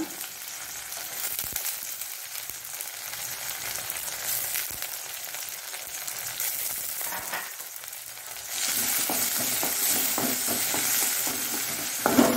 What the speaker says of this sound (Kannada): ನೀರುಳ್ಳಿ ಸ್ವಲ್ಪ ಕಲರ್ ಚೇಂಜ್ ಆಗುವಾಗ ಈ ಹಲಸಿನ ಬೀಜವನ್ನು ಹಾಕೊಳ್ಳೋಣ.